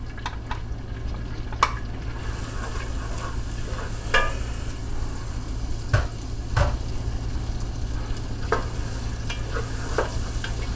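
Onions sizzle steadily in melted butter in a pan for a Bolognese sauce, a constant close frying hiss broken by occasional stirring scrapes and clicks, with no talking.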